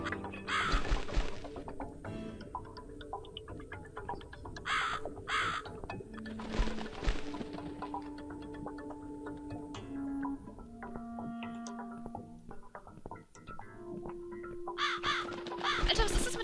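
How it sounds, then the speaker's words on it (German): Ravens in the video game The Cat Lady, several harsh caws repeating in scattered bursts over quiet eerie game music and tones, with no one talking. "Alter, was ist das mit den ganzen Raben hier?"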